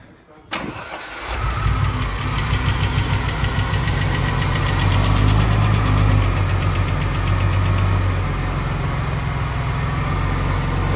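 A Mercedes W210 engine fires up for its first start after a head gasket job, cranking briefly and then settling into a steady, close idle with a faint ticking over the running drone.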